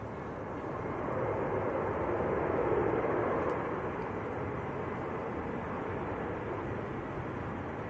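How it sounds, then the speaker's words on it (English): A Eurowings Airbus A319 touching down at Manchester Airport on a windy day: a broad, steady roar of engines and rushing air that swells and holds at a moderate distance, with no talking. "Eurowings, which has just touched down, little A319"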